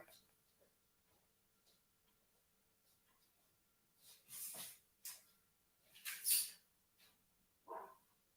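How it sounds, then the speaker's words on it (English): A dog barks a few times in the background, short sharp bursts scattered across a quiet room, with faint sounds between them. "Excuse the dog bark in the background."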